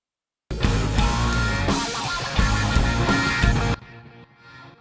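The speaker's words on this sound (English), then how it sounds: "Now it's got this epic reverb tail on the end of it" Reversed guitar solo built in Pro Tools, a dense swelling wash of backward notes that cuts off abruptly and leaves a quieter reversed reverb tail trailing away, with no talking.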